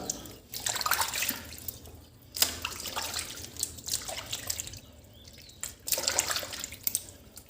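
Kaffir limes rinsed under plain water make bursts of splashing and running water with drips, separated by quieter pauses, close by and moderately loud.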